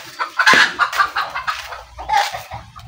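A hen clucks repeatedly in short, close bursts, with a brief squawk near the start and uneven pauses between the clucks.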